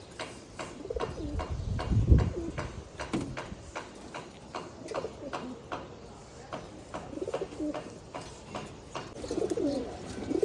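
Soft pigeon cooing repeats over faint pecking and light clicking, with a low murmur in the background.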